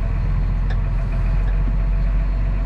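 Massey Ferguson S Series tractor engine driving along, a steady low rumble running unbroken and fairly close, with faint mechanical clicks on top and no talking.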